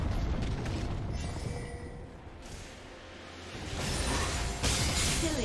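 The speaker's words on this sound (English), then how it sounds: "Red team's turret has been destroyed." A defensive turret crumbles in the League of Legends arena, a broad, rumbling burst of crashing debris that swells, dips, then surges again, loud and close with no talk.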